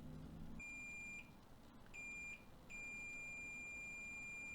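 Sharp electronic beeps sound when a switch button is pressed during circuit diagnosis: a few short high-pitched tones separated by brief gaps, then a steady continuous beep.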